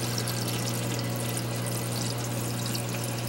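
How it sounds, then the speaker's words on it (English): Water flows steadily into the submerged drains of a BeanAnimal aquarium overflow, a constant even rushing and trickling hiss with a low pump-like hum beneath, with no splashing. "the water is coming in through the drains here"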